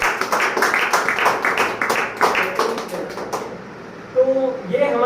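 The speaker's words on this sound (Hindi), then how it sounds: "गुरु जी के लिए मैं जोरदार तालियां जाता हूं।" An audience applauds for a guru at a gathering in Ujjain, with dense, loud clapping for about three and a half seconds before it thins out. A few tones and knocks follow.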